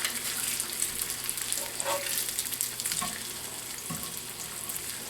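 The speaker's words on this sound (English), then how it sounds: "But when you're frying streak lean," Streak o' lean pork fries in a pan with a continuous bright sizzle and crackle. A few soft clinks and scrapes of stirring sound faintly at a modest level.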